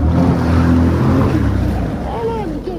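A jet ski engine revs up on open water, a loud steady motor drone with splashing and wind, easing slightly near the end while people talk over it.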